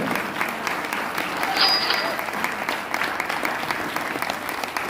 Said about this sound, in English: Big round of applause here for Steve Gill.